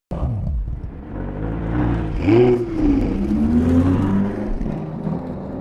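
A car pulls away from a station parking lot at night, its engine rising in a steady, loud rev and whirring rumble as it accelerates off.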